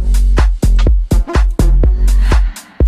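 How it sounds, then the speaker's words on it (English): Big brassy synth patch in an electronic track's drop, loud repeated punchy stabs over heavy sub-bass, roughly eight hits in a bouncy uneven rhythm. "So the call is that big brassy kind of synth"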